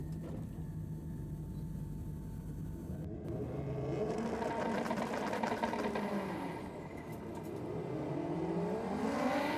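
A Honda drag car launches at Sydney Dragway, its engine rising from a steady idle into a loud, building rev with shifting pitch sweeps, heard from a moderate distance without talk.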